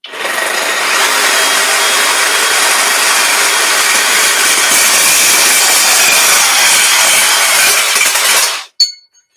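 A reciprocating saw cuts through metal strut with a loud, harsh, continuous buzzing rasp. It holds steady for about eight seconds, then cuts off suddenly, followed by a brief clatter.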